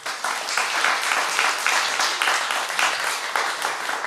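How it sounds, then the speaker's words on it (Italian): An audience at an Italian poetry evening applauds to welcome Professor Giuseppe Nappi: a full, close burst of many hands clapping, sustained and even throughout with no talk over it. "passo la parola direttamente con un grosso applauso al professor Giuseppe Nappi"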